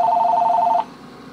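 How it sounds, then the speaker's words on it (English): A telephone rings with a rapid warbling electronic trill for under a second, then stops, leaving a faint room hum. "And of course the phone's going to ring."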